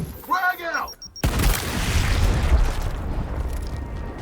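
A grenade explodes in the video game Gears Tactics, a sudden loud boom followed by a long rumbling, crackling decay, preceded by a brief in-game voice.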